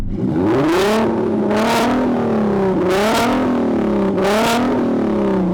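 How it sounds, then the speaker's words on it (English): A loud Nissan R32 car engine revs repeatedly, climbing and dropping in pitch in four or five surges over a constant throaty roar. "Now let's have a listen to your R32 engine, Miguel."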